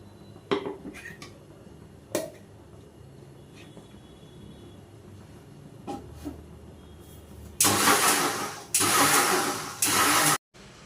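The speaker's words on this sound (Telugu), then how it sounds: "ఒకసారి మిక్సీ కొట్టేసి దీంట్లో వేసేసుకుందాం" A kitchen mixer grinder blends overnight-soaked ingredients for a homemade hair shampoo: after a few light clinks and taps, the motor roars loud and close in two sustained bursts with a short pause between.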